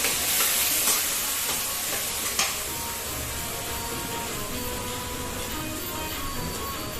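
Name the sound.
rice frying in a pan for vegetable fried rice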